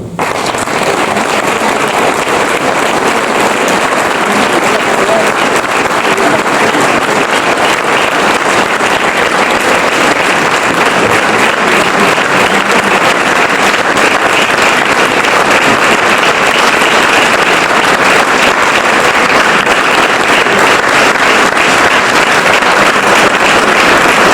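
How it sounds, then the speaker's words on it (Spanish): An audience at a talk on ecosocial transitions gives sustained, loud applause, a thick even roar of many hands clapping that runs unbroken for over twenty seconds. "per això també es mereix un gran aplaudiment"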